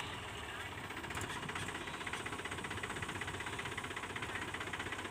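A Mahindra 275 DI tractor hauling a trolley labours while stuck in waterlogged mud, its engine giving a steady, rough, knocking drone throughout at moderate distance.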